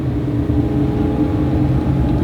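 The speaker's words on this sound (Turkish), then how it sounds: "şu an formasyon turuna çıktık kendi araçlarımızla." A race car on a track during a formation lap gives a steady, loud low engine drone and rumble heard from inside, holding an even pace with no talking.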